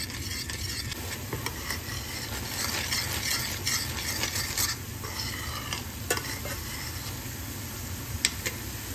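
Curd cooking down in a pan over a low gas flame while being stirred steadily, a soft continuous sizzle with spoon scrapes and clinks close by, no voices.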